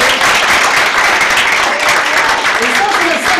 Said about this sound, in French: On peut l'applaudir ensemble à la lumière.